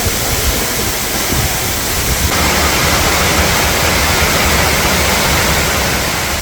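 The Daehye waterfall on Geumo Mountain in Gumi pours down in a steady, loud roar of rushing water that fills the whole stretch without a break.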